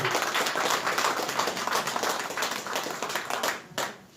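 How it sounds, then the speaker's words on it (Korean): A small group at a political party meeting in an office claps together in a brief burst of close, sharp handclaps that thins out slightly toward the end. "여러분 큰 박수 부탁드리겠습니다."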